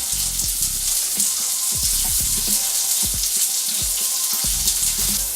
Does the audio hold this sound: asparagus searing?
yes